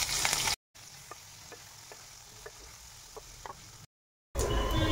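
Salted eggplant sizzles gently in a pan of oil, a soft steady frying hiss with small pops and occasional stirring clicks, broken by brief silences and a louder burst at the start and end.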